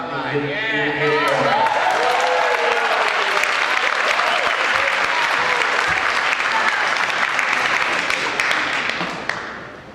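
Sustained applause from a crowd at a Lower Lake community meeting about the Valley Fire, loud and steady for about nine seconds. Voices are mixed in at the start before the clapping swells and then holds.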